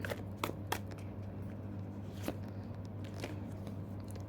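Tarot cards are being shuffled and drawn by hand. Soft, sharp card snaps and slides come at scattered moments over a steady low hum, fairly faint and close.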